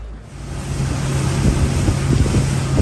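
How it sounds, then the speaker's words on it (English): A boat's engine drones steadily as it moves through the mangroves of Langkawi, Malaysia, with rushing wind and splashing blending into a constant low rumble. "here we are on the boat, heading out into the mangroves"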